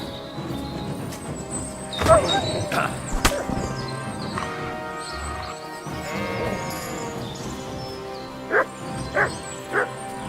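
A dog barks in the medieval game Kingdom Come Deliverance 2: a few scattered yaps, then three loud, evenly spaced barks near the end, over busy outdoor game ambience.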